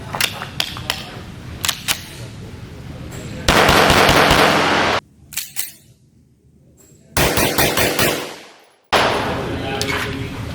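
A Metrillo limited edition gun fires in several loud bursts of fast rattling with short quiet gaps between them, and a few sharp clicks come before the first burst.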